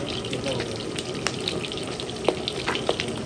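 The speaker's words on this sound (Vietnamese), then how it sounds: "Ngập hải sản, ngập trong dầu ăn." Shrimp and seafood deep-frying in cooking oil give a steady, loud sizzle and bubbling, with a few sharp crackles standing out near the end.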